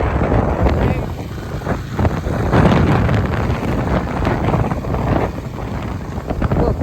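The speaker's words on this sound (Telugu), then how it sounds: "పెద్ద పెద్ద గాలి" Strong gusting wind buffets the microphone in a loud, continuous roar with rumbling surges, no clear speech above it.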